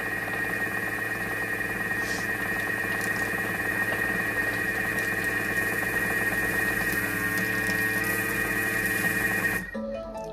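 An electric whisk beats cake batter, running as a loud, steady motor whine with a bright tonal hum near and constant for about nine and a half seconds before it abruptly cuts off.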